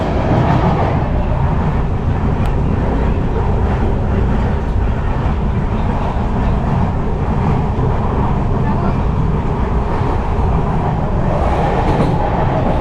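Steady low rumble and rattle of a moving train carriage near Khed railway station in Konkan, India, continuous and loud throughout, with faint voices mixed into the noise.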